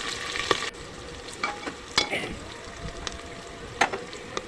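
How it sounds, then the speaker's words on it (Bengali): Chopped onions and green chillies fry in hot oil for a beef curry, a steady close sizzle with scattered crackles and a few brief spatula scrapes. "একটু ভেজে নেব।"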